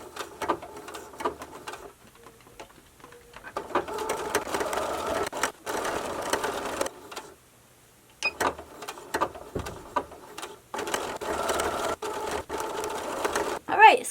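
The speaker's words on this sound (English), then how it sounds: "next we're going to sew the edges together" A sewing machine runs in several bursts of rapid mechanical stitching as the edges of old jeans are sewn together, with pauses in between. Quiet sounds of handling can be heard in the gaps.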